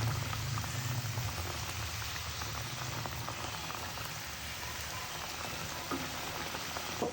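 Pieces of rohu fish bubbling in a cooking pot, a steady dense simmering fizz and crackle running evenly throughout, close and moderately loud with no talk.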